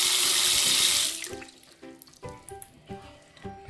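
A sink faucet gushes water loudly into a drain for about a second, then cuts off, leaving scattered drips and gurgling splashes as the basin drains.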